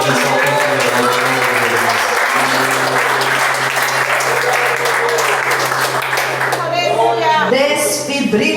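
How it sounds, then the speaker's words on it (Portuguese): A church congregation claps for the Lord during a lively night service, quick clapping running steadily over sustained music with singing voices, loud and close, with voices rising more clearly toward the end. "Aplauda o Senhor nesta noite."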